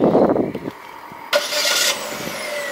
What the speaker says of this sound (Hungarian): Hallottad? Kulcsnyomással beindult.